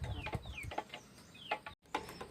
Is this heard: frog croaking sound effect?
no